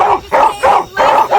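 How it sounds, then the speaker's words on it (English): Guard dogs barking loudly at midnight, four close, rough barks in a steady rhythm, each one strong and separated by short gaps. "You are agitating my dogs."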